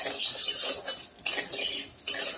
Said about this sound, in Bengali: এই যে বড়িগুলোকে লাল লাল করে ভেজে নিচ্ছি